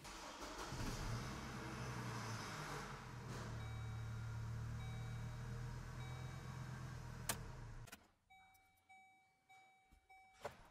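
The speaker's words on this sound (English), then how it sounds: "start and run the engine" A Chevy Colorado engine idles steadily with a low continuous rumble, then cuts off near the end, leaving quiet with a few faint tones.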